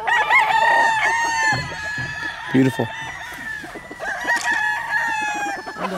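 Game chickens at a fair, with a rooster crowing loudly and nearby hens clucking throughout, under people talking close by.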